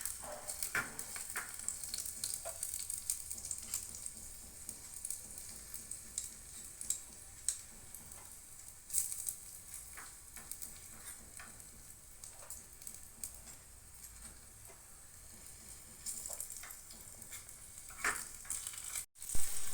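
A miniature pan of onion, tomato and garlic paste fries in a toy kitchen, giving a faint, steady sizzle with light scattered stirring clicks throughout.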